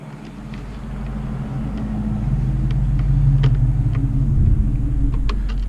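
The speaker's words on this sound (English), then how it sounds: "Truck sound pretty good." A deep engine rumble builds and holds steady, close by, with a few faint clicks and knocks over the low drone.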